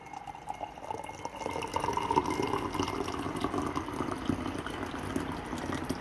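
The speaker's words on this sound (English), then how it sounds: "I'm going to go ahead and pour some out" Freshly brewed spring Darjeeling tea poured from a pot into a cup, a steady, close liquid stream with a trickle and slight rising fill tone, continuous for several seconds without speech.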